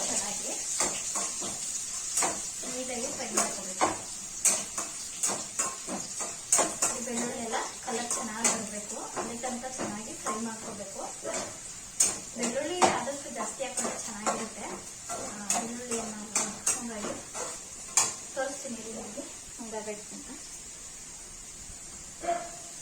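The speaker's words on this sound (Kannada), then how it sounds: "ತರಕಾರಿ ಫ್ರೈ ಮಾಡ್ಕೋಬೇಕು" Vegetables frying in a pan for a simple tiffin recipe: a steady sizzling hiss throughout, with occasional light scrapes and clinks of stirring, under a person talking almost continuously.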